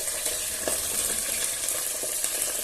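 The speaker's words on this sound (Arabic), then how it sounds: "هذا البصل نطيشو معاه هنا" Onions frying in a pan while cooking minced-meat-stuffed briouats, a continuous hissing sizzle with soft stirring scrapes, close and steady without speech.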